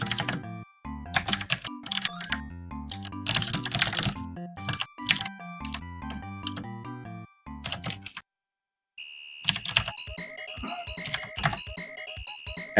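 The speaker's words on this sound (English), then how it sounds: "As chat gets to hear the dulcet tones of my keyboard" Mechanical computer keyboard typing during a livestreamed Final Fantasy IV Free Enterprise randomizer race, dense clacking keystrokes in irregular bursts, close and fairly loud, with game music and chimes mixed in and a brief silent gap.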